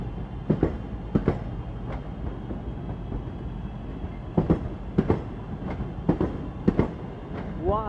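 A train on the line into Birmingham New Street, on a Plymouth via Gloucester service, clatters along with a steady rumble, broken by repeated sharp clicks and thumps of wheels over rail joints, ending in a brief squeal.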